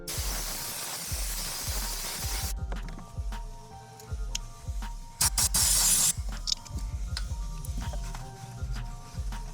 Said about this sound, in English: I'm going to use some compressed air and some brake clean on this